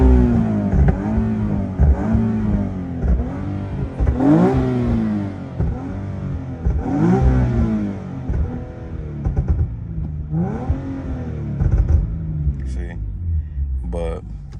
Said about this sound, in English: even my car revs to like a higher RPM too